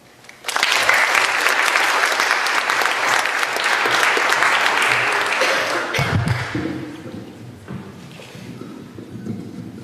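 An audience applauds loudly and steadily for several seconds after a senior speech by a finalist, then the clapping thins out and fades as a few scattered claps linger.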